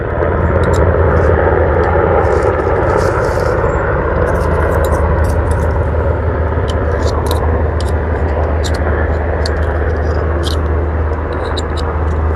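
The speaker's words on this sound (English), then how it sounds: "I'm sorry about the noise from the helicopters" Helicopters fly overhead near Fort Bragg, a loud continuous rotor and engine drone filling the whole stretch with faint clicks and rustles near the microphone.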